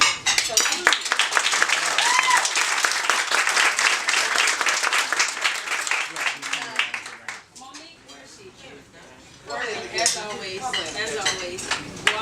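Applause for mothers at a Mother's Day gathering, loud sustained clapping from a room of people that thins out partway through, with scattered voices and clinking dishes and cutlery heard beneath it.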